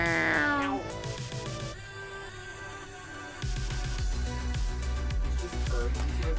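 A chatty house cat meows loudly with a rising, drawn-out call, then falls silent while music and voices continue around it.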